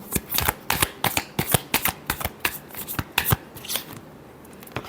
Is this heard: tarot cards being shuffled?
yes